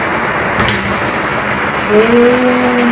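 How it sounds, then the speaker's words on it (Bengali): Steady heavy rain drums on a tin roof, a dense unbroken patter filling the whole clip with no voices. "কি হারে বৃষ্টি পড়ছে"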